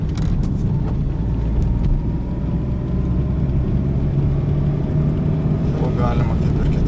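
A Fiat Seicento with a 0.9-litre engine accelerates through the gears, its steady low engine drone and road rumble filling the cabin from start to finish while a person talks over it.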